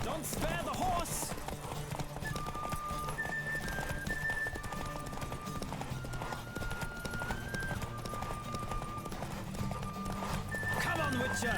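A horse gallops with steady clip-clop hoofbeats in the Witcher 3 video game, with whinnies near the start and end, while voices talk over it and a melodic tone plays throughout.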